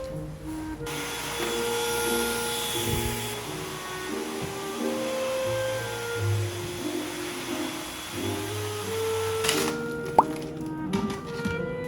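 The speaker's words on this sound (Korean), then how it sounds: "거실이 좀 많이 지저분해서 청소기부터 돌립니다" Household vacuum cleaner running over a living room floor, a steady mid-level whine with tonal hum that shifts as the nozzle moves, cutting off near the end followed by small clicks and knocks.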